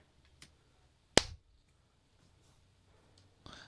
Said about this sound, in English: And you want to go ahead and clap